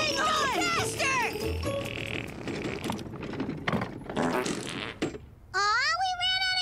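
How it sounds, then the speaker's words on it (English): Exaggerated cartoon fart blasts from an animated comedy episode, several squeaky, wobbling bursts mixed with character voices, jingly effects and other busy sound effects. "He can fart blast."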